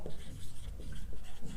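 Marker or chalk scratching across a board as a physics question is written, a short run of close strokes with no speech.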